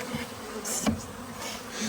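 A steady, close buzzing of honey bees inside a hive hums throughout, with a louder pass of wings briefly rising over the drone.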